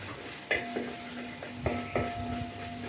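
Ginger-garlic paste sautéing in a pan, a soft continuous sizzle under a faint hum, punctuated by a few light stirring knocks against the pan.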